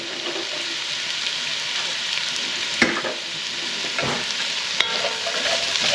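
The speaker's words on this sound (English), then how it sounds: "I'm going to start browning off the onions. I throw the carrots in at the same time" Onions and carrots sizzle as they brown in a pan, a steady close frying crackle broken by a few scraping strokes of stirring, with no talk.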